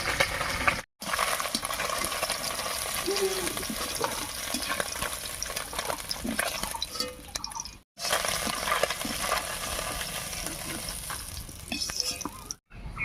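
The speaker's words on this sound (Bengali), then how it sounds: "মাছগুলো হালকা করে ভেজে নিয়েছি এবার নামিয়ে নিচ্ছি" Boroli fish fry in hot oil in a home kitchen, a steady close crackling sizzle with fine spattering pops that runs almost without a break, cut by a few brief silences.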